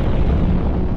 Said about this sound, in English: titanic explosions rock the cosmos on a scale we can barely imagine